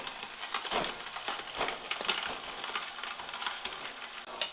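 A juicer grinds through carrots in a steady, dense, gritty whir with crackly texture, fairly close and continuous with no talking.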